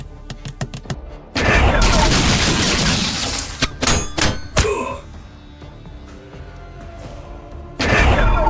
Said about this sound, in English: They shoot us in the back!